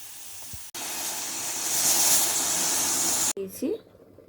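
A pressure cooker holding a whole tomato and chili paste lets out a loud, continuous whistling hiss of steam for about two and a half seconds, cutting off abruptly, with brief clatter and faint voice around it.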